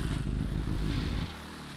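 A vehicle engine runs with a loud, rough, steady rumble, then drops noticeably quieter near the end as it is switched off.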